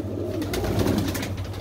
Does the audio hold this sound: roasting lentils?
no